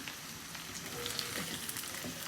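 Meat frying with green chilies, ginger and garlic for Pakistani Balochi tikka crackles in a steady, moderately quiet sizzle that runs throughout with no voices.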